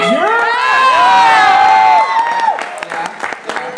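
A convention audience at a Team Four Star panel at Manifest 2011 erupts in loud cheering, whoops and shouts, then settles into scattered applause and crowd noise that gradually thins out.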